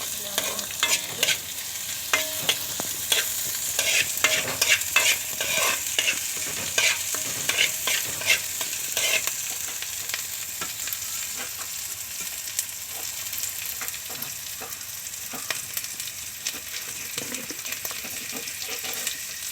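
Onion, shallots, ginger and green chili sautéing for fish curry, a continuous sizzle in the pan broken by frequent quick scraping strokes of a spoon, fairly close and steady, with no voices.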